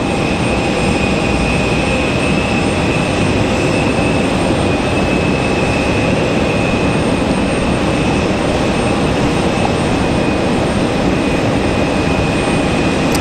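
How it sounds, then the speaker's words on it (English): A Boeing 787 Dreamliner jet at stormy Raleigh-Durham airport produces a constant loud roar with a faint high whine, unchanging throughout and without voices. "That's another 787 Dreamliner"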